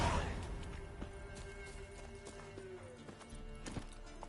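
Roach, a horse in the video game Witcher 3, gallops with a rapid, steady clip-clop of hooves, fairly soft and close, running on without a break.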